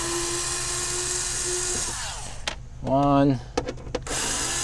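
A power drill loosens the screws on an RV black water flush inlet, giving one short whirring burst that rises and falls in pitch, with someone talking before and after it.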